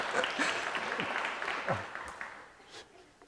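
A church congregation applauds during a Sunday service, steady close clapping that fades toward the end, with a voice speaking briefly over it.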